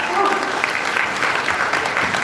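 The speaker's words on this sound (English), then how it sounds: "That deserves a clap, guys." Audience applause at a YouTube creators' day event, a loud, dense, unbroken burst of clapping from a crowd, sustained across the whole moment.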